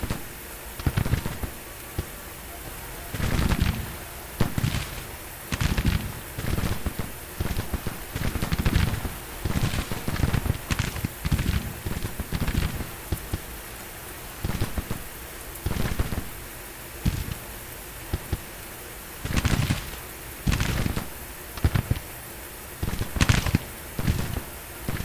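Musket volleys crackle from a Civil War battle in Grand Tactician: The Civil War, set at Mobile, Alabama, as repeated sharp bursts and rolling rattles of distant gunfire go on steadily throughout.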